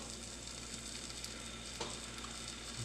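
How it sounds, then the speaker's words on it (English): Hickory smoked bacon sizzles in a frying pan with a steady crackling hiss, close and even, with a few louder pops near the end. "we're going to add 4 slices of this beautiful hickory smoked bacon to this"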